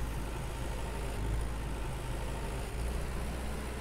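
Tractor engine in the farming game Farmer's Dynasty, a steady low idling drone that holds even throughout with no talking.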